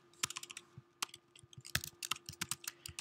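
Rapid typing of code on a computer keyboard, with quick, uneven bursts of sharp key clicks, close and clear, with no talking.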